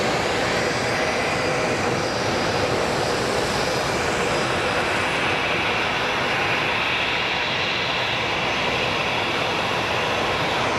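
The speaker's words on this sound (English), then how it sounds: "That is an extremely high-speed taxi." A jet airliner taxis at very high speed along a runway at Sky Harbor International Airport, its engines giving a loud, steady roar that fills the whole stretch, with no talk.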